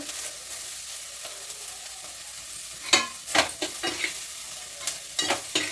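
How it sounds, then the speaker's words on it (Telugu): Ingredients fry in a pan with a soft continuous sizzle, broken by several sharper scraping stirs, close and alone without talk. "మరీ ఎక్కువ వేయించద్దు, కొద్దిగా అయితే వేయించుకోవాలండి"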